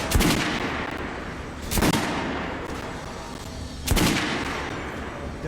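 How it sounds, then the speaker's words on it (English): Three loud, sharp gunshots ring out at irregular intervals on a shooting range in the video game Metro Last Light Redux, each followed by a short echoing tail, with no voices. "Try shooting for the center of the regular dummy's chest."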